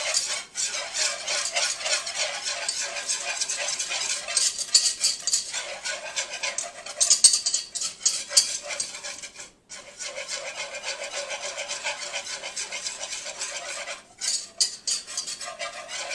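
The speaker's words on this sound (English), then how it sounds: "I'm just going to stir all the flour in, and I'm going to start cooking this flour." Flour stirred into fat in a pot for a roux, a continuous raspy scraping of a utensil against the pot bottom in rhythmic strokes, close up with a few short pauses.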